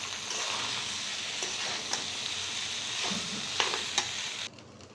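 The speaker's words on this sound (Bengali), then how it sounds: "ভালো মতো নেড়ে চেড়ে মিশিয়ে নিচ্ছি" Noodles stirred and mixed in a frying pan, sizzling steadily up close while the utensil scrapes and taps against the pan at irregular intervals, then the frying drops away abruptly near the end; nobody speaks.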